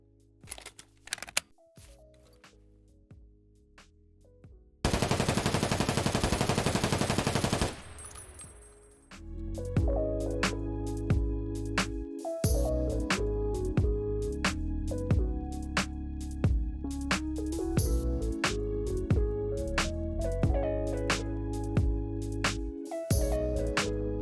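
Sustained full-auto burst from an MK-47 rifle in Escape From Tarkov, loud dense automatic gunfire lasting a few seconds after some lighter clicks, followed by rattling mechanical handling noises.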